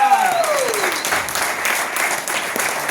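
Audience applause for a visionary director at a business event, steady dense clapping filling the room throughout with a faint voice briefly above it.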